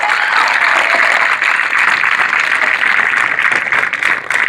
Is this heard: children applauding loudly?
yes